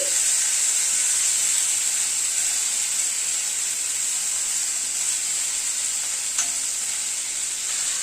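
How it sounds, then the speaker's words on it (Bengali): Lengthwise-cut tomato slices sizzle steadily in a hot pan while being stirred. A bright, continuous frying hiss is close and loud, with a faint scrape of stirring and no voices. "টমেটোটা দিয়ে দিলাম টমেটোটাকে দিয়ে আবার একটু নাড়াচাড়া করছি"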